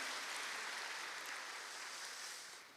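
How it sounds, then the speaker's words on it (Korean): A church congregation applauding during a Sunday morning worship service, steady broadband clapping filling the room at a moderate level and easing slightly toward the end. "박수 올려드리겠습니다"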